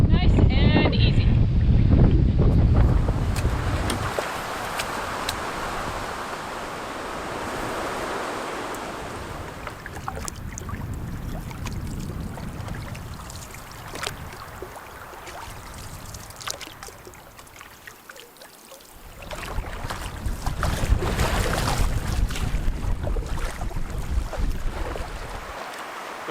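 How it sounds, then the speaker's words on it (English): Strong wind roars across a river on a wilderness canoe trip on the Mississagi, gusting loudly at the start, easing, then rising again near the end, with faint talk underneath. "The wind is getting pretty crazy out there"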